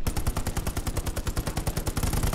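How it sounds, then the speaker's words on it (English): Rapid machine gun fire in the World War II shooter Hell Let Loose, a dense, regular burst of close, loud shots that rattles on continuously without pause. "MG trying to nail us on the left."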